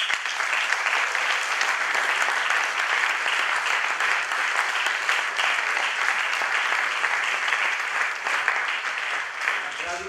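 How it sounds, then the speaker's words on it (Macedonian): Sustained audience applause fills a concert hall at the winners' concert of the Tremolo 2014 international guitar festival, a dense, even wash of clapping holding steady for about ten seconds. "Еден аплауз."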